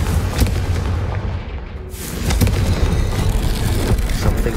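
Confringo blasting spell in Hogwarts Legacy, loud booming explosive bursts with a brief lull in the middle, then heavy rumbling impacts resuming, no talking.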